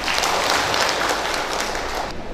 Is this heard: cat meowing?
no